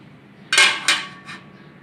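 Metal stand set into a cooking pot on the stove for an oven-free cake, three bright clanks close by, two loud and quick then a softer third, with no talk.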